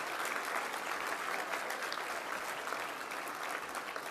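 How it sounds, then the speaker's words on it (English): An audience at a luncheon applauds the United States Army Chorus with a dense, steady round of clapping from a large crowd, held at an even level throughout. "Let's give him one more big round of applause."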